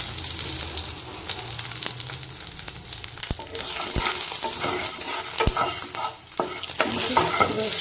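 Chana dal roasts in a pan of oil tempered with green chilli and curry leaves for ragi upma, giving a steady close sizzle broken by sharp spatula taps and scrapes throughout.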